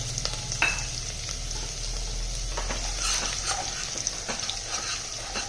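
Sesame seeds frying and being stirred in a pan for a Kathiawadi meal, close crackling sizzle with frequent scraping stirs and light clatter, steady and fairly loud throughout.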